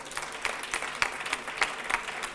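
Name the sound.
audience applause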